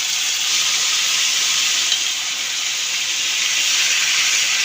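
Beef shawarma strips sizzle loudly in hot oil and butter in a pan, a dense, steady, hissing crackle that carries on without break and with no talking.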